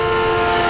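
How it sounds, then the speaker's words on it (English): A steady, sustained train whistle tone, loud and close, holding a constant pitch with rumbling rail noise underneath. "As a train approaches, the whistle's pitch"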